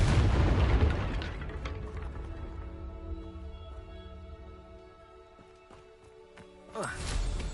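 A Confringo fire spell detonates in Hogwarts Legacy, opening with a heavy booming blast that decays into a low rumble beneath sustained game music tones, followed by a second whooshing burst near the end.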